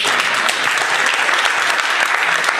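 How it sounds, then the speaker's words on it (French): Audience members at a colloquium on social and tax fraud clap together in loud, sustained applause, a thick even roar of hands with no break. "je pense qu'on peut applaudir"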